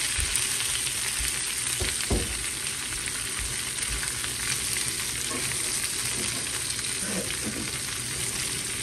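Squash for a summer stew frying in a pan, a constant close, loud hiss and crackle with occasional utensil scrapes and stirring thumps, no voices.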